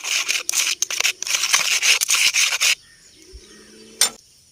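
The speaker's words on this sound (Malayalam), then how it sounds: "പെട്ടെന്ന് ഇളക്കി റെഡിയാക്കുക" A waterproofing sealant mix is stirred quickly in a container, producing brisk, fast scraping and rubbing strokes for a few seconds, then quiet with a faint clink near the end; no talking.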